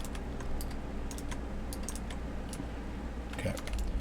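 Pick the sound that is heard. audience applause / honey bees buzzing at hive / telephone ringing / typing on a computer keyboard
typing on a computer keyboard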